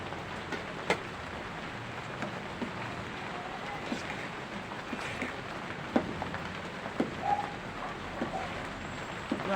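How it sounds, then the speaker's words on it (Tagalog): Steady rainfall hisses at a moderate distance, with scattered drips and taps on surfaces and occasional faint bird calls in the background. "Grabe yung ulan, no?"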